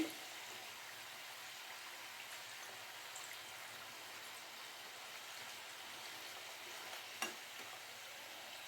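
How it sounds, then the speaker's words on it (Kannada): Aloo samosas deep frying in oil over a low flame, giving a soft, steady bubbling hiss that holds evenly for several seconds, with one brief louder crackle. "ಕಡಿಮೆ ಉರಿನಲ್ಲಿ ಚೆನ್ನಾಗಿ ಡೀಪ್ ಫ್ರೈ ಮಾಡ್ಕೊಂಬಿಡಿ."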